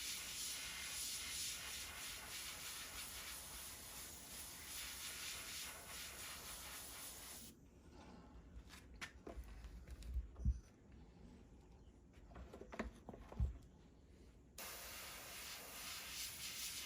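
Airbrush spraying paint onto a flocked specklebelly goose decoy, a close steady hiss that stops for a few seconds while soft taps and handling noises sound, then resumes.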